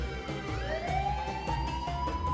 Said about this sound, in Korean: 구급차가 골목으로 들어왔다.